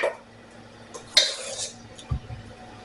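A spoon scrapes and clinks against a bowl while spreading and smoothing a mixture, a few soft taps followed by a brief scraping stroke and a dull knock, quiet and close.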